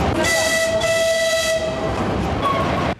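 A train pulls into a station sounding a long horn blast, followed by a rumble of rolling cars and a second shorter horn note, loud and close.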